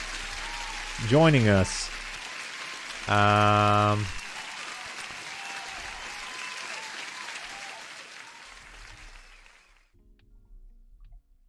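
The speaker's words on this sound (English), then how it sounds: "a huge applause to a new subscriber" A burst of applause sound effect plays during a live futures trading stream, a loud clapping block lasting about a second, preceded by a brief sweeping tone, with someone speaking over a quiet background before and after.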